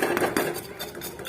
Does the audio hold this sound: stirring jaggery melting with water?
yes